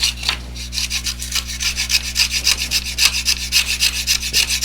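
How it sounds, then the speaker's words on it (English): A carving tool tears at wood while a seal is carved, giving loud, close, rhythmic rasping strokes, about four per second, heard alone. "Yeah, it's tearing the wood up."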